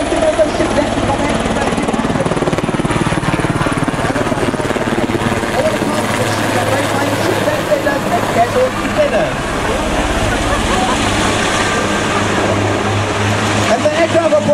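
A rescue helicopter approaches a ship's deck to land off Singapore. Its loud, steady rotor and engine roar stays close and constant throughout.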